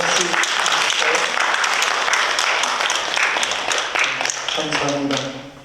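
A church congregation applauds to welcome two visitors during a worship service, steady clapping filling the room and tapering off at the end.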